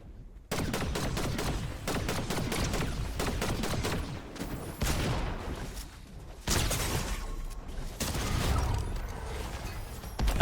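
Dense, continuous hip-fire gunfire from Fortnite Zero Build, loud rapid bursts packed close together with brief gaps, no speech.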